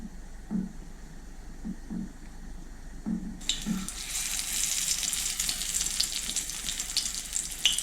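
Flour-coated fish laid into hot oil, a few quiet taps and clatters first, then a sudden bright crackling sizzle that continues steadily and grows slightly busier.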